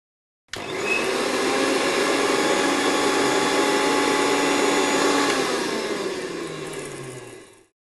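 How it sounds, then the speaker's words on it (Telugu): An electric mixer grinder whirs loudly as it grinds coriander seeds, garlic cloves and cloves in a covered jar, starting abruptly, holding a steady high motor whine for about seven seconds, then winding down. "మూత పెట్టి మిక్సీ చేసుకోవాలి"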